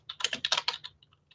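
Quick burst of typing on a computer keyboard, about a dozen crisp clicks close up, then a few sparse taps trailing off.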